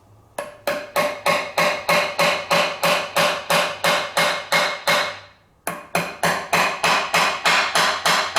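Dowel pins being hammered into a 1951 MG TD engine block: a steady run of sharp, ringing metallic strikes about three per second, loud and close, with one short pause before the blows resume.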